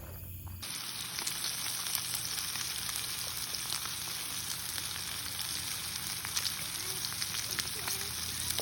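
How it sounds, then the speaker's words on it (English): Foil-wrapped packet of potatoes, onions and cheese sizzles steadily in a campfire, a continuous crackling hiss with small pops, close and even throughout, with no talking. "We wrapped it tightly together in aluminum foil and threw it in the fire"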